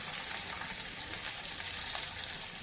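Onions added to hot oil with green chilies sizzle in a pan for masoppu sambar, a steady, soft hiss close by with occasional small pops.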